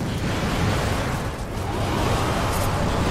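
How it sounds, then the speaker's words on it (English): A big explosion in the video game Darksiders, heard as a dense, loud roaring burst of noise that stays steady for about three seconds. "I figured the explosion would be big enough for all of them."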